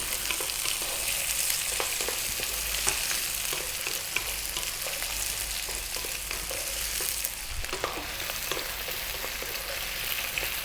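Potatoes frying in a pan over above-medium heat for a vegetable curry, a steady dense sizzle with small crackles and pops throughout, close and continuous with no talk.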